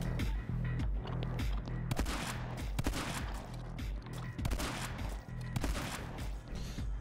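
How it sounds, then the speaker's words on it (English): Shotgun blasts ring out in My Friend Pedro, several loud bursts in quick, uneven succession over a pounding game music track with dense action noise. "We'll use the shotgun."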